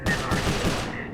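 Rapid bursts of video game gunfire from Sly Cooper: Thieves in Time, several quick shots in a loud flurry over about a second, mixed with game music and effects.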